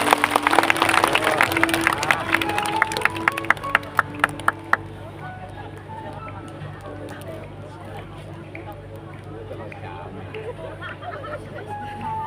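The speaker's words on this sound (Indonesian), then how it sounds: "Tepuk tangan untuk Dava." An audience at an outdoor religious gathering on a field in Madiun applauds for Dava. Sharp scattered claps come early, then fade into a steady crowd murmur and background chatter.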